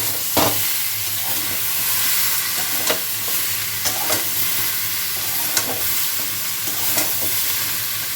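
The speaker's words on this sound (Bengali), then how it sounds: "ভাজা ভাজা করে নেবো একটুখানি" Greens such as red amaranth leaves with plantain frying in a pan, a steady loud sizzle broken by a few sharp scrapes of stirring spaced through it, with no voices.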